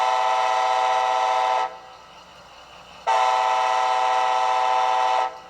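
Two loud, sustained horn blasts from a Bachmann HO scale SC-44 Charger model locomotive, the first about a second and a half long, a short pause, then a longer second blast.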